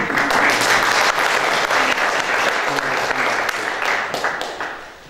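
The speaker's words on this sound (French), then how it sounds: "Vous pouvez applaudir." Brisk applause from an audience greets a candidate at the official press presentation of Miss Picardie 2018 contestants, steady clapping that fades out toward the end.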